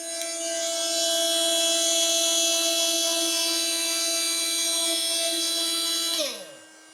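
A Makita oscillating multi-tool runs steadily with a high, buzzing whine and layered tonal hum, loud and close, then spins down abruptly near the end.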